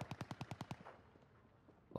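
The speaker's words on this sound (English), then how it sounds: "Oh, some shooting from up there." Gunfire in the video game Call of Duty: Warzone: a quick, fairly faint burst of about seven evenly spaced automatic shots, then a short, quiet, fading tail.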